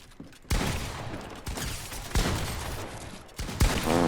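Four heavy pump shotgun blasts in the battle-royale game Fortnite, each a sharp loud crack with a lingering reverberant tail, spaced unevenly about a second apart, with no voices over them.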